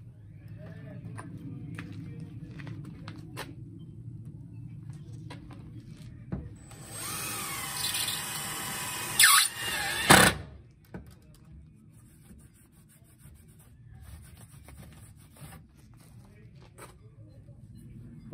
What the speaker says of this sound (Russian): Закрутим еще один.